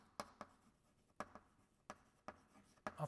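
Marker or chalk writing on a board during a thermodynamics lecture, with a series of soft, distinct taps and short strokes spaced irregularly, faint and close with no talking.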